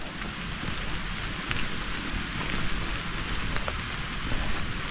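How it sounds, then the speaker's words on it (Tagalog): Heavy rain pours steadily in a dense, hissing wash with no pauses, close and loud throughout. "grabe talagang umuulan"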